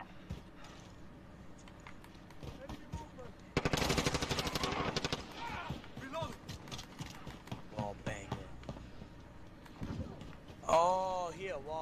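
Rapid bursts of automatic gunfire in a Modern Warfare/Apex Legends shooter match, a loud sharp volley mid-way among scattered shots and game effects, with players talking throughout.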